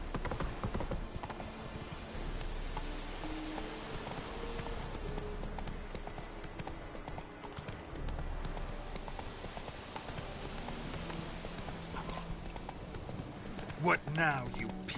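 Roach, a horse in The Witcher 3, gallops with steady rhythmic hoofbeats throughout, a voice speaking over them and a sharp whinny near the end.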